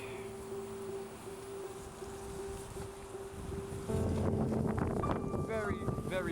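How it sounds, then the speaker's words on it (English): Strong wind buffets the microphone at night in a constant rushing roar that grows louder partway through, shifting direction, with faint voices underneath. "Very, very windy tonight. The wind just keeps changing direction."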